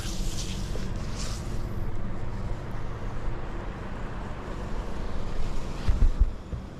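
Sea surf and gusting wind at a roadside viewpoint on a motorcycle trip through northern Luzon, a steady low rumble of waves with wind buffeting the microphone, swelling louder near the end.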